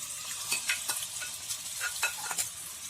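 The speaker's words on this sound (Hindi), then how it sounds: "पैन में हम 1 टेबलस्पून तेल गरम कर लेते हैं। तेल गरम हो चुका है। हम इसमें मैरिनेट किया हुआ चिकन डाल देते हैं।" Marinated chicken pieces fry in a tablespoon of hot oil in a pan over high flame, a quiet sizzle punctuated by rhythmic spatula scrapes and stirs, with nobody speaking.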